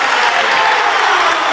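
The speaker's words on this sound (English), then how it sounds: "Crowd on their feet." Home crowd cheering and applauding loudly at a high school basketball regional game, a dense, roaring wall of clapping and shouts held steady for the whole moment.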